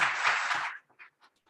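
Audience applause for a panel speaker at an oil and gas conference session: a dense burst of clapping that fades after under a second, followed by a few scattered quiet claps.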